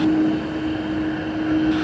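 Aircraft taxiing at Sydney Airport, a steady loud engine drone with a sustained whine running unbroken throughout, no voices.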